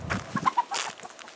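Several chickens cluck in short, quick bursts nearby, a brief flurry of clucks with no voices.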